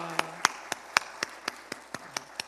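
Sparse, evenly spaced claps ring out in a church during a Wednesday evening worship service, about ten sharp hits over a couple of seconds with a faint murmur of voices beneath.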